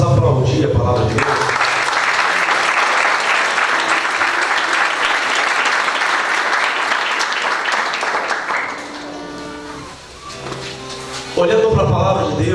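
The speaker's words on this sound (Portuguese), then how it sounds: "Vamos aplaudir a palavra de Deus" A church congregation applauds after a Bible reading, loud sustained clapping filling the room for about eight seconds before fading, followed by someone speaking.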